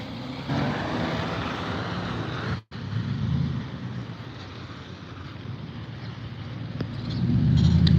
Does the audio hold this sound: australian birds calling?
no